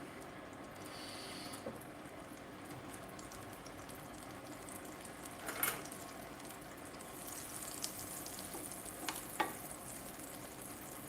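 A hunk of butter sizzles and fries in a pan, a soft, steady crackle at low level with a few clinks and knocks of utensils, no talking.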